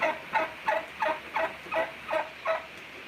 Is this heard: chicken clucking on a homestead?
yes